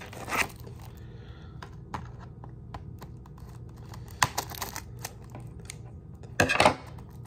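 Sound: scissors cutting open plastic wrap of a game bundle

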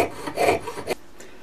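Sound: jeweler's saw frame cutting metal for a ring

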